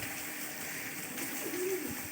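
A single soft pigeon coo rises briefly near the end over a steady, faint background hiss.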